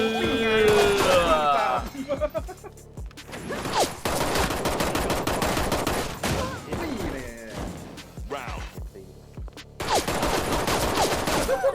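Pistol gunfire in the shooter-fighting video game Black Stigma sounds as dense, loud bursts of shots and impacts mixed with game effects. Thai-speaking players talk excitedly over much of it.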